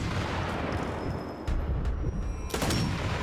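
Sharp gunfire in the World War II shooter Sniper Elite 4: two heavy sniper rifle shots ring out over a dense, rumbling background, the second louder and closer.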